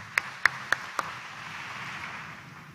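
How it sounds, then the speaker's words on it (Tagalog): A congregation at a Quiapo Church mass gives a few scattered claps, four distinct sharp hits in the first second, then the room settles into a low murmur of ambient noise. "Palakpakan muna natin at tayo magbigay papuri sa ating mahal na Senyor."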